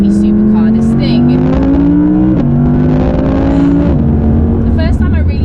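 A 2019 Audi R8 sports car engine drones loudly from inside the car, the pitch climbing steadily through the gears with brief drops at each shift, while someone talks over it.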